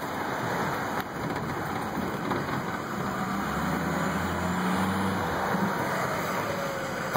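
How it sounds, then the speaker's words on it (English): Steady tire roar on pavement from a moving 2005 Ford F450 Crew Cab Powerstroke diesel truck on fresh tires, a continuous broadband rush with low rumble underneath, no talking. "I can hear that fresh rubber biting."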